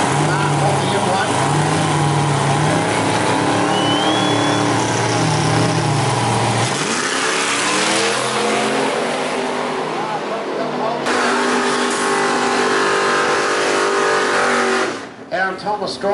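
Twin-turbo drag race cars launch and accelerate hard down the strip at the Port Road Drags, loud revving engines climbing in pitch through gear changes before fading out, under a track announcer's commentary.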